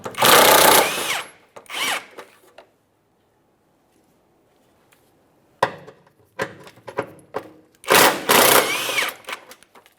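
A power tool loosens 12mm bolts on the underbody shield of a 2014-2018 Mazda 3, buzzing in short bursts separated by quiet pauses, with small metallic clicks between runs.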